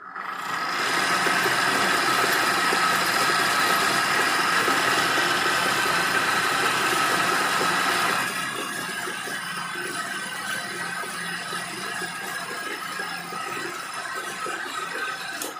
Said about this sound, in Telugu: ఇప్పుడు చిక్ చేస్తే మనకి మోటార్ అనేది రన్ అయ్యి మనకి బోట్లు అనేది చుట్టుకుంటుంది అన్నమాట.